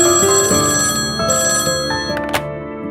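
A telephone rings with bright, repeated electronic bell tones in quick bursts, close and clear, fading toward the end.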